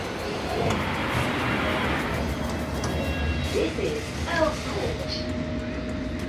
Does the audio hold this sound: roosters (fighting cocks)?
no